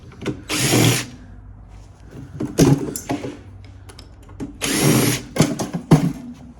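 A power drill fitted with a five-point Allen key bit backs screws out of a cast aluminum piece on a steel-cased copper radiator, with two loud whirring bursts separated by clicks and handling clatter.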